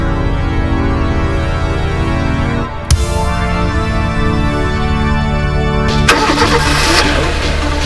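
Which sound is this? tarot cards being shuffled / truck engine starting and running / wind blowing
truck engine starting and running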